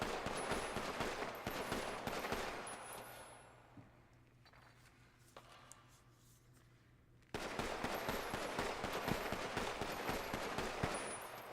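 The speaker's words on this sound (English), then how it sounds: "I want you to fire a full mag into that wall and then reload and fire another mag" Sustained automatic gunfire from a full magazine emptied into a wall in a roleplay video game, loud and dense. It breaks off into a quieter pause, like a reload, then a second long burst follows at the same volume.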